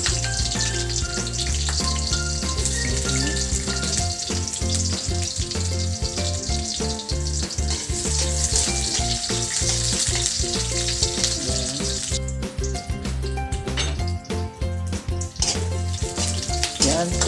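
Garlic and onion fry loudly in a hot pan for chop suey, a dense continuous sizzle with rapid crackling and frequent clinks of a utensil stirring, close up and steady throughout.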